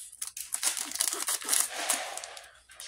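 Scissors cut and crinkle open the plastic packaging around a plush toy, a rapid close series of snips, rustles and crackles that fades out toward the end.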